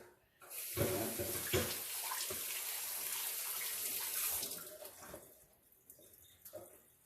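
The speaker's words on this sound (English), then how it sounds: "I'm gonna squeeze the water into the bowl" Water is squeezed by hand out of dumpling filling into a bowl, giving a gushing, trickling pour that swells for a few seconds, then tapers to scattered drips.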